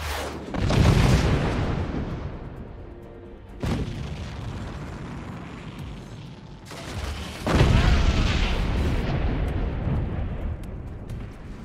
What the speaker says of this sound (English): Can I follow up with my cannon?